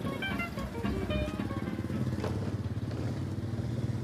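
An old motorcycle riding along, its engine thumping in a steady rapid pulse up close, with some clatter and no one speaking over it.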